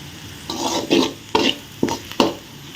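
Cooked, cooled white rice being stirred into fried onions in a pan for potato rice, giving several distinct scraping and mixing strokes at an uneven rhythm, close and clear, with no talking.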